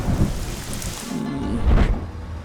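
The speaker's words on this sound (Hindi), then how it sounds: "बारिश पसंद है तो फिर बारिश में भीगो।" Heavy rain pouring steadily with low rumbling thunder rolling through, loud and close, no voices.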